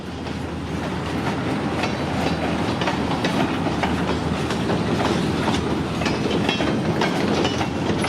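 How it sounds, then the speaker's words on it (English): A freight train hauling shredded scrap metal rolls past close by, a loud continuous rumble with clickety-clack of wheels over rail joints throughout. "this train is rolling south to Cribbets"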